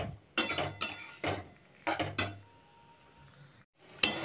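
A pan of chicken momo stuffing being stirred, with sharp metallic clinks and scrapes of a spoon against the pan in irregular bursts, quiet gaps between, no one talking.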